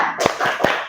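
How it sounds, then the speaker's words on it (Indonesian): Three quick, sharp hand claps from a classroom doing the tepuk semangat clapping routine, close and crisp in a fast rhythm. "Tepuk semangat."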